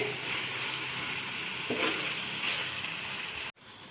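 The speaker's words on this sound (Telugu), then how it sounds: "ఇట్లా ఫ్రై అయితే బాగా మంచిగా ముక్కలు బాగా వేగుతాయండి" Boneless chicken pieces frying in a pan for a masala curry, a continuous dense sizzle held steady up close, cut off by a sharp knock near the end, with no speech.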